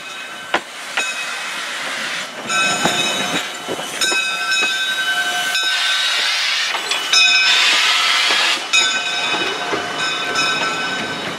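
A train rumbles past nearby with a steady hiss and metallic squeals, its broad noise swelling and lingering for several seconds.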